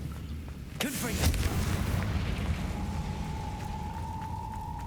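The Confringo blast spell in Hogwarts Legacy goes off as one sharp explosive burst with a fiery whoosh, then gives way to a steady rumbling background and a faint sustained tone.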